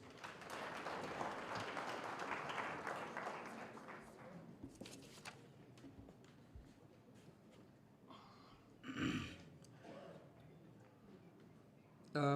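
Audience applause at an education summit rises for several seconds as a soft, dense patter, then fades into quiet room noise with a few scattered taps and a brief murmur.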